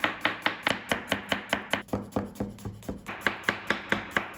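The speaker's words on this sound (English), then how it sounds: "I will show you my knife skills by cutting all those onions" Knife chopping onions for onion soup on a board: quick, evenly spaced crisp strikes, about four a second, loud and close, with a brief looser stretch midway before the steady rhythm resumes.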